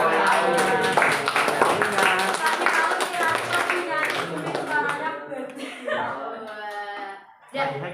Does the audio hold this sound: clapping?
yes